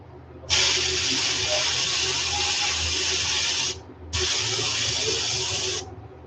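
Two long bursts of steady hissing airbrush paint spray on a fishing lure, the first about three seconds and the second slightly shorter, close and loud with a brief pause between.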